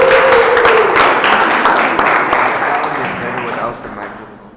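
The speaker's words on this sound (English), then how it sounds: "Give her a round of applause." Audience applause breaks out in a university lecture hall after a volunteer's demonstration, a dense wash of clapping that starts loud and gradually thins and fades over several seconds.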